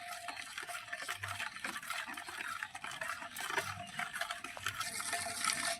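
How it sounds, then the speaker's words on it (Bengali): A ladle stirs roasted spices into oil for a village-style mango pickle, making a steady, close, wet scraping and swishing texture that runs without a break and has no voices. "এবার আমি এই হাতা দিয়ে মশলা খুব ভালো করে মিশিয়ে নেব তেলের সঙ্গে।"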